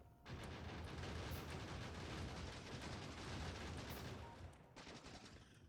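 Gun turrets in Factorio fire in a sustained rapid rattle that runs for several seconds before easing off, faint but continuous with no talk.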